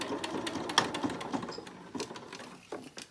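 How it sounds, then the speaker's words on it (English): A sewing machine stitches a cloth face mask in short bursts with brief pauses, the needle's rapid patter close and moderately quiet, with no talking. "turn your mask, and stitch a few times"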